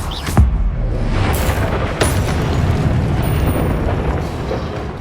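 Confringo blast spell explosions in the Hogwarts Legacy video game: a loud sharp boom at the start, further bursts near two seconds, then a dense roaring rumble that fills the rest of the clip.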